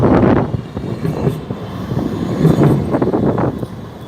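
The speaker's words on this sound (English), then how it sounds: "So there you go, that's one of our double trams." A Melbourne double tram heading toward Camberwell rolls past on Glenferrie Road with a steady loud rumble and a few rattling swells, no voices heard.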